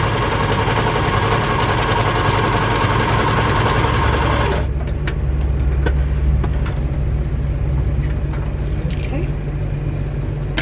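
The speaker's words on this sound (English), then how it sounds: "And I'm just sewing my quarter inch." A sewing machine stitches a quarter-inch seam through two layers of quilting fabric, a steady loud motor whir running continuously before settling into a quieter hum, with no talking.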